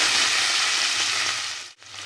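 Tomatoes frying in a pan, a steady hiss of sizzling oil that runs close and loud with no talk, then drops away abruptly near the end before picking back up faintly.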